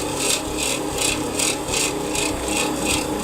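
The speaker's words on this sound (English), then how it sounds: "Let me add more sugar, and I do want it to grind the sugar down while it's in there" Rhythmic, steady grinding of sugar during brewing in Kingdom Come Deliverance 2, a gritty rasping stroke repeating about every third of a second, loud and close with no talking.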